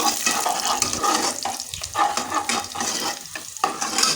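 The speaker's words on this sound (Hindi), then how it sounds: "अब मेरे प्याज जो है ब्राउन हो रहे हैं" Onions frying and browning in a pan for karhi, a steady loud sizzle with bursts of stirring and scraping running continuously without voices.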